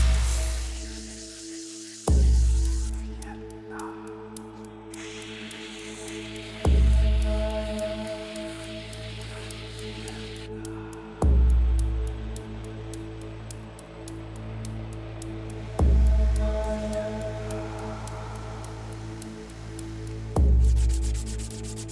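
A piece of work is rounded off at its corners by rubbing or sanding in a craft workshop, heard as steady close rasping strokes broken by about five loud, sharp knocks spaced several seconds apart.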